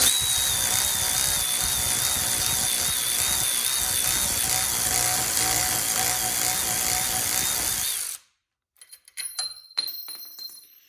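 A Milwaukee M12 Fuel 3/8-inch cordless ratchet runs with a loud, steady motor whine for about eight seconds, then cuts off, followed by quiet scattered clicks and handling noise.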